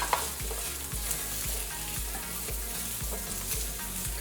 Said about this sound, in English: Once fragrant, add in your sweet peppers and onions,